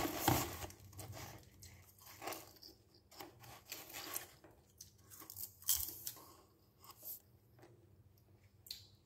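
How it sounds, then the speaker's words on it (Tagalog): Close, quiet crunching of popcorn being chewed, irregular bites and rustles with short pauses between them. "Kain tayo ng popcorn."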